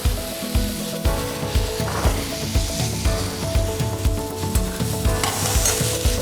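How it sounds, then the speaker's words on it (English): Taco ingredients, including diced tomato and red onion, sauté lightly in a pan under constant stirring. Steady rhythmic scraping strokes, roughly two per second, sit over a continuous close sizzle. "Now you're just lightly sauteing these. You don't want to get a whole lot of color, so you're going to constantly be stirring them."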